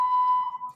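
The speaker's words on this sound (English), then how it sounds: "my fire alarm's going off" A fire alarm goes off in a room, sounding one steady, piercing electronic tone that holds and then wavers slightly as it fades near the end, with no voices heard.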